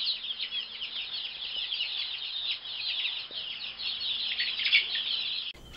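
Chickens cluck and chirp continuously in a dense, busy flock chatter at moderate distance, with a steady low hum underneath and no talking.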